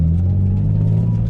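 Manual car pulling away in first gear, a steady low engine rumble with a deep hum, close and constant for a brief moment.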